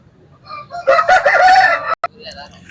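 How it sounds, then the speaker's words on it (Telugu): A rooster crows once at a market in Anantapur, loud and close, its harsh call rising and stretching out before cutting off abruptly, followed by a brief quieter tail. "ఇదైతే మరొక పుంజు"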